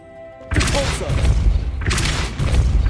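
The Depulso spell is cast in Hogwarts Legacy, a magic-school video game, as a sudden loud blast. A second similar whooshing burst follows about one and a half seconds later, each rumbling briefly before fading.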